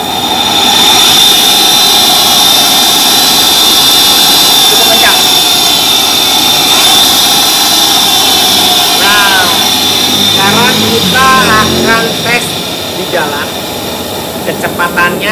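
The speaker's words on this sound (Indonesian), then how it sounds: "kita akan gas dan kita lihat kecepatannya di sini" An electric Honda Beat motorcycle motor is revved, giving a loud, steady high whine with rising and falling tonal sweeps as the throttle is worked, while someone talks over it.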